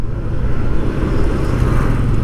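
Road traffic on a congested, narrow road under construction near the new Manila International Airport gives a steady, close engine rumble with no gaps and no talking.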